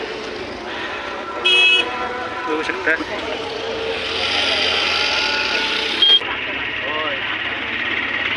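Crowded road traffic at the Kunkeshwar temple fair, with a long line of vehicles, cars and a truck sounding short horn toots over a constant engine hum while someone talks near by throughout.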